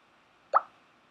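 A converted SNES BRR sample played back through an SPC program, heard as a single short, soft plop-like blip in near silence, lasting well under a second.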